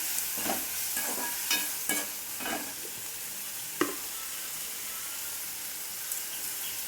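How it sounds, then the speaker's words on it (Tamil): Tomatoes sauté in a pan with a soft continuous sizzle, broken by several close scraping stirs of a spatula and one sharp knock. "இப்போ நம்ம தக்காளியும் கொட்டிக்கலாம். நல்லா வதக்கிக்கலாம்."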